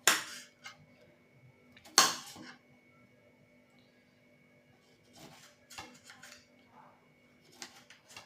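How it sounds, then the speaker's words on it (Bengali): Onions are chopped with a few sharp knife strikes on a board, sparse and fairly close with quiet pauses between them. "পেঁয়াজগুলোকে সুন্দর করে আমি কুচিয়ে নেব"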